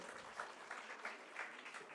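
Conference audience applauding, a faint, steady wash of many hands clapping with slight swells, heard alone without speech.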